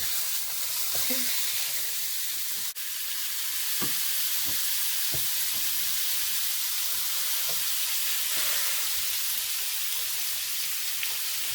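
Hamburger patties sizzle steadily on a George Foreman grill, a continuous close hiss and crackle with occasional small pops, no voices over it.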